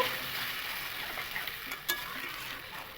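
Spices sizzle and crackle steadily in a hot pan while being sautéed with young jackfruit, with a few faint scraping stirs and no talking.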